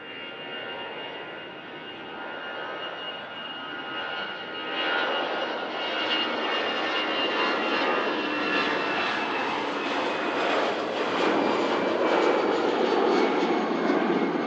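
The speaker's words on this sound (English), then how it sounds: "EasyJet lined up, just heading out to Belfast." An EasyJet airliner departing Manchester Airport for Belfast, its jet engines building from a distant rumble into a loud, sustained takeoff roar that swells over the seconds.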